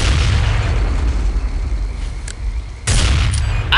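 Gunfire in Counter-Strike Condition Zero, heard as a continuous loud, booming rumble of shots with a sharp new burst near the end, close and filling the whole stretch.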